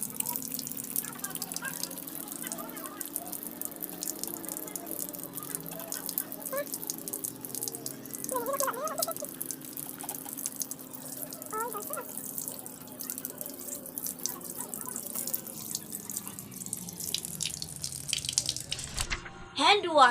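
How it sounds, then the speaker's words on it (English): Steady running tap water pours through most of the twenty seconds while hands are washed at a sink during a clinical catheterization procedure, with faint drips, a voice talking over parts of it, and the flow cutting off near the end. "Wash your hands."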